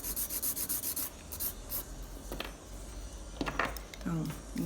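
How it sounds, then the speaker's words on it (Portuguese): Quick rhythmic rasping strokes file the tip of a fiberglass nail extension, first in a close regular burst and then in slower, scattered rubs, with a voice speaking near the end. "Então, primeiro, vou acertar a ponta da unha."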